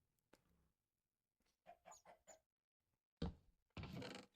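A chicken in Minecraft clucks after laying an egg: a sharp note, a run of three or four quick clucks, then two louder bursts of squawking, all fairly close with no talk.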